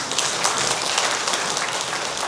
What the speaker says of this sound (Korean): 박수를 치라고 같이 함께 쳐주세요